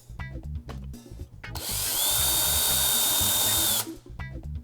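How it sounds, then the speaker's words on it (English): An electric drill fitted with a 1/8 inch bit bores a pilot hole through a metal snowboard bracket, a steady high whine lasting about two seconds between bursts of handling clatter. "grab your 1/8 drill bit, put it in your drill, and drill out the one punched hole"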